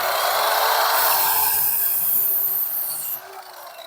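A saw cuts through scrap wood for sawhorse legs at a 15-degree angle, a steady, loud, rasping whine running for about three seconds before dropping off abruptly near the end.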